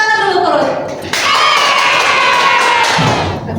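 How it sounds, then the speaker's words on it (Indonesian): Applause from a classroom of students during a micro-teaching lesson: a burst of clapping mixed with cheering and children's shouts that swells loudly after the first second and carries on to the end, with talk at the start. "Oke, jadi tepuk tangan dulu ke Ruth."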